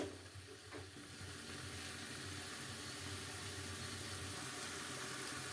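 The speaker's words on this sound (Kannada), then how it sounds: "ಕಮ್ಮಿ ಉರಿಲೇ ಫ್ರೈ ಮಾಡ್ಕೊಳ್ಳಿ, ಚೆನ್ನಾಗಿ ಬೇಯುತ್ತೆ." Homemade paneer fries on a low flame in a pan, a faint, even sizzle that holds steady throughout with no voices.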